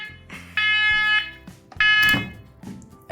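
A smoke alarm in a house in Auckland sounds two loud, shrill electronic bursts, each lasting about half a second, with quiet gaps and handling noise between them.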